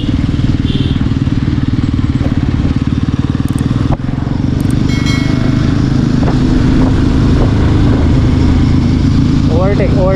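Motorcycle exhaust roars loud and close during a drag race between a TVS Ronin 225 and a Bajaj Pulsar 150, a continuous engine note that rises into higher revving whines near the end.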